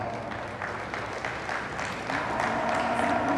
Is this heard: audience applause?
yes